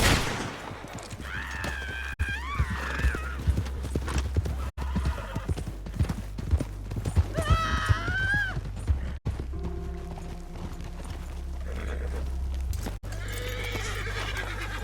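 In the Red Dead Redemption 2 video game, a horse whinnies repeatedly with rising, wavering neighs while hooves clip-clop steadily underneath, accompanied by scattered sharp gunshot-like cracks across a busy game soundscape.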